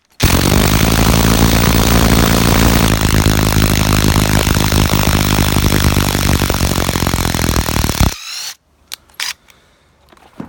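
A Fein ASCD18-200W4 impact driver hammers loudly at a stuck screw, a harsh continuous rattling whir lasting about eight seconds before stopping, followed by a couple of short clicks and quiet.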